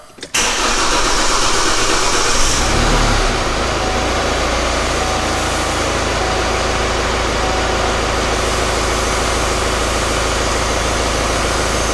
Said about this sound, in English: So now I'm going to fire up the truck.